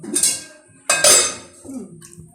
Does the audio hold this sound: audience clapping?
no